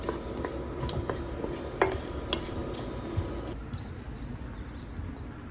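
Whole spices for Goan xacuti masala are stirred as they dry roast in a pan, a close scraping rustle with faint crackle throughout and a light metallic tap or two, with no one talking.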